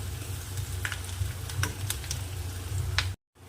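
Chopped onions and curry leaves sautéing in a pan for a village-style dal and drumstick vegetable dish, a quiet, steady sizzle with scattered light ticks and crackles.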